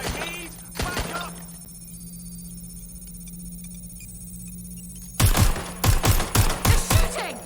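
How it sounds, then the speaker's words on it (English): Video game gunfire in Watch Dogs: Legion: two sharp shots ring out, then a long humming lull before a rapid burst of loud automatic gunfire, several close cracks in quick succession. "We have gunfire!"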